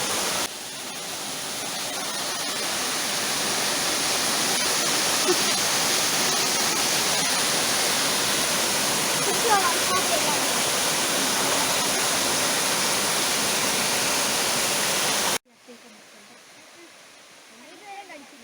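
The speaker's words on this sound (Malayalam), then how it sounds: "മനോഹരമായ വെള്ളച്ചാട്ടം." A waterfall at Braemore near Trivandrum roars as a loud, steady broadband rush that fills the scene, then cuts abruptly to a much quieter background near the end.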